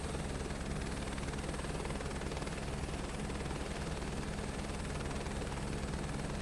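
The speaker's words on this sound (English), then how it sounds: "I love this helicopter. It's definitely my favorite in the sim for majority." Helicopter rotor and turbine in Microsoft Flight Simulator 2024, a loud, steady, close drone with a continuous rhythmic rotor chop running throughout, no voices.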